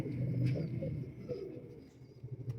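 Pigeons kept for sale coo softly nearby in low, throaty repeated murmurs, a few brief chirps breaking in, the whole scene quiet and close.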